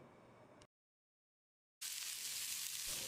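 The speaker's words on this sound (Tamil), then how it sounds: "மீடியம் சைஸில் 3 பெரிய வெங்காயத்தை நீளவாக்கில் நறுக்கியிருக்க இதை போட்டு வதக்கிடலாம்" Three large onions, sliced lengthwise, sizzle in a hot pan, a brief hiss, then a moment of silence before a loud, bright sizzling resumes and holds steady.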